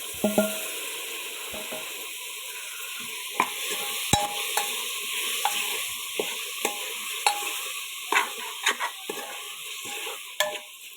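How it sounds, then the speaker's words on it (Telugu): Potatoes go into hot oil for a curry, hissing with a steady sizzle while a spoon scrapes and taps against the pan at irregular intervals, close up with no talking. "వేగాక బంగాళదుంపలు వేసుకుంటున్నాను."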